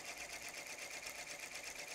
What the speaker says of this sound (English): Now it proceeds to stitch each letter between